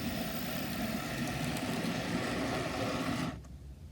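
Small N gauge model pannier tank locomotive hauling two suburban coaches and a van on a layout, a steady close rumbling run that cuts off abruptly near the end as the train stops.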